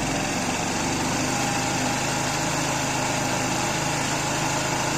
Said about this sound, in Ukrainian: Щось на холостих не хоче працювати. Ось так працює.